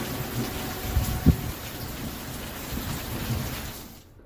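Heavy downpour of rain in Ambala with thunder, a steady dense hiss of rain and a sharp thunder crack early on, then continuous rain noise that fades out at the end.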